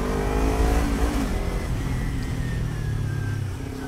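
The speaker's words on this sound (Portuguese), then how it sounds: "Deixa eu passar esse carro aqui." A car engine heard from inside while overtaking another car on the road, a mid-pitched drone that revs and climbs in pitch, loud and close, with no talking.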